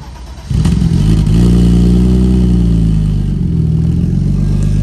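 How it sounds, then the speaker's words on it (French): A BMW E30 with a loud aftermarket exhaust fires up after a short crank, settling into a deep, rumbling idle that stays close and loud throughout. "Elle a démarré au quart de tour"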